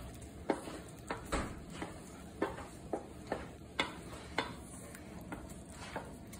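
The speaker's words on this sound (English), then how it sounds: "Here we go, nice stir." Button mushrooms stirred in a pan: a spoon scrapes the pan in a steady rhythm of soft clicks about twice a second, over a quiet sizzle, with no talking.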